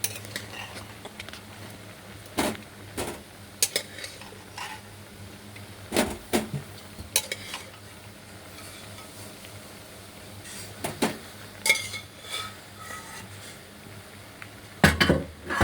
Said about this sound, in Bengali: আমি আলুগুলোকে বার করে নিচ্ছি একটা প্লেটের মধ্যে